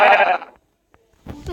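A sheep in Minecraft Pocket Edition bleats, with a loud, wavering bleat at the start and a shorter one near the end, separated by a near-silent gap.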